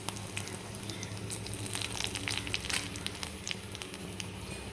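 Mustard seeds and dried chillies sizzle in coconut oil in an iron kadai, a steady loud frying hiss with scattered sharp pops and crackles throughout.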